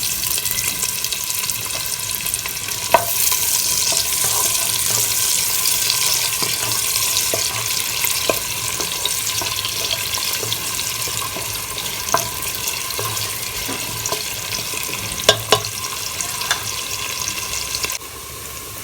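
Finely chopped onion fries in about a tablespoon of hot oil in a pressure cooker, giving a steady, close, bright hiss with occasional small pops and stirring scrapes, with no talk.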